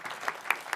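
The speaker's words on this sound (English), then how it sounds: "I'll make you guys clap again." An audience clapping at a political satire event, a short, light scattering of claps with a few sharper individual hits standing out.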